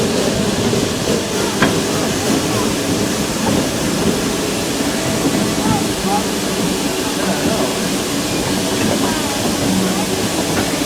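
Steam locomotive Tuolumne of the Roaring Camp and Big Trees railroad hauls a train up a steep switchback grade, its steady loud rumble and clatter filling the scene while people talk over it.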